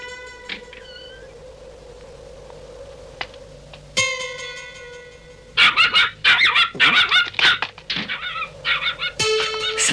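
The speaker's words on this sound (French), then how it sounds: "Ce n'est pas possible, il y a un chien." Cartoon dog barking in rapid, loud bursts after a stretch of quiet tones, yaps stacked closely together near the end, with no talk over them.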